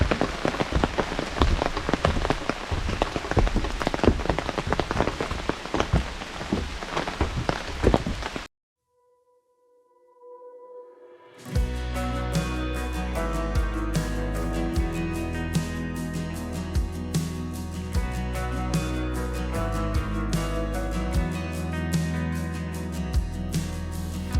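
Steady rain falls on surfaces at a lookout over a landform shaped like the Korean peninsula, a dense, even hiss for about eight seconds; it cuts to silence, then music takes over.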